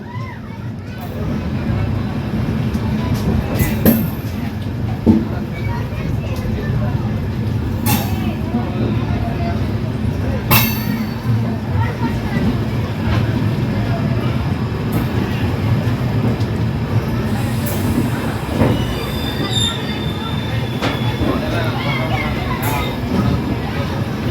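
Velankanni Express train standing at Ernakulam Junction station, a steady loud low rumble of engine and platform noise with occasional sharp clanks and knocks, talk heard faintly in the background.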